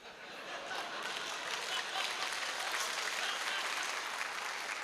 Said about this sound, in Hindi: इस वाली बात पे ताली ज्यादा बजी